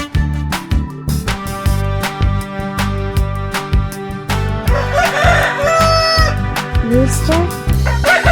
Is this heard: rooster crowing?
yes